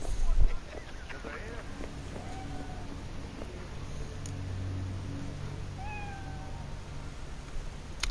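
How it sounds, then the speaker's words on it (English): A cat being petted in Cyberpunk 2077 meows several times, short rising mewls set against soft game background ambience, with speech mixed in. "You can pet cats, that's confirmed."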